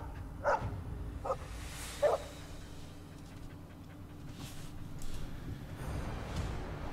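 A dog in Dragon Age: Origins gives a few short, faint yips and barks early on over a low background hum, followed by quieter panting-like sounds.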